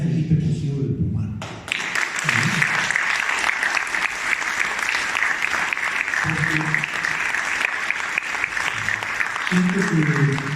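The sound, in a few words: audience applause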